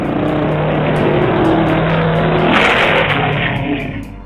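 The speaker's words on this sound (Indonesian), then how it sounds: "berkendara secara ugal-ugalan dengan suara knalpot yang bising" Several motorcycles ridden recklessly with loud, noisy exhausts roar close by in one continuous, heavy engine drone that swells slightly midway and eases off near the end.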